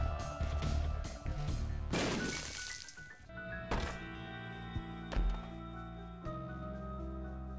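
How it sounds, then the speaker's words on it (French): A bomb goes off in The Binding of Isaac: Repentance, a sharp booming crash near the two-second mark, followed by more thuds and impacts over looping game music. "Soit poser une bombe ici."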